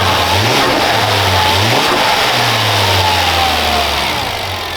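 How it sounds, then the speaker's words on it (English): A Volvo S80 T6 engine with an aftermarket Elevate J-pipe exhaust revs up loudly several times, dropping back between bursts, with a deep throaty exhaust note close by. "give you guys a couple of revs to see how it sounds"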